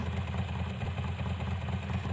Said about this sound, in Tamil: இது ஒரு அப்படியே மெய் சிலுக்கிற அளவுக்கான இன்ஜின் பர்ஃபார்மன்ஸ் சவுண்ட்